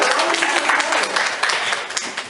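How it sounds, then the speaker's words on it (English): Brief burst of audience applause and cheering at a talk on spiritual bypassing, dense clapping at steady loudness that tapers slightly near the end. "I am so glad that there's applause about that"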